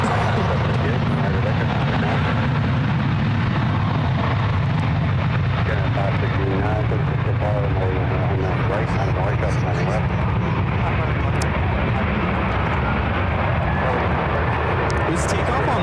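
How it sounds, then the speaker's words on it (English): United Boeing 737-900ER jet taking off for Houston, a loud continuous engine roar rumbling steadily throughout, heard alongside spoken commentary. "This takeoff on one right is United 2855, taking off to Houston Intercontinental on the 737-900ER"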